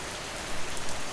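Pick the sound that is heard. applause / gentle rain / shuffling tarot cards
gentle rain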